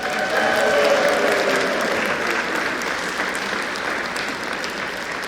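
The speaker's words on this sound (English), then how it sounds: "let's give them a round of applause one more time, please" A round of applause at a youth Sunday church service, steady and dense clapping from the congregation with some voices mixed in early, fading slightly toward the end.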